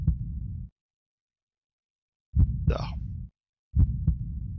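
Heartbeat sound in the game Breath of Fire 3, a low, loud throbbing in three separate bursts with silent gaps between them, one brief spoken word over the middle burst.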